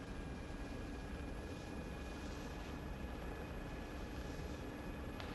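A steady, loud aircraft engine roar from a transport coming in to land at a landing zone in the military video game Arma, holding an even broadband drone throughout with no voices.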